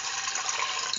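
Water pours in a steady, hissy stream into a rice mixture with curried green peas and beetroot in a pressure cooker, a brief, even splash close to the microphone.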